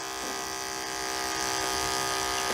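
Electric hair clippers with freshly sharpened blades cut through fur, giving a steady close-up motor buzz that runs unbroken for a few seconds with no talking.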